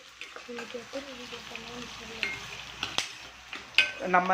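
Ingredients for gongura chutney sauté in hot oil, a low sizzle under repeated stirring scrapes and occasional utensil taps against the pan, close and moderately quiet.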